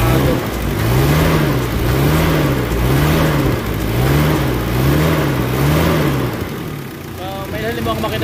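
A Mitsubishi Adventure diesel engine runs with a rough, throbbing rhythm and swells through several revs, carrying a throttle delay, vibration and low-power fault, with people talking close by over the engine.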